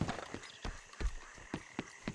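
Horse hooves clopping at a steady riding pace in Red Dead Redemption 2, a series of distinct, fairly close thuds spaced about a quarter-second apart over faint background ambience.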